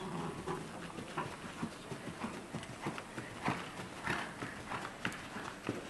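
Horse hooves beat a steady two-beat working trot in a dressage test at a schooling show, with rhythmic clip-clop footfalls on an arena surface, moderately close and unaccompanied by talk.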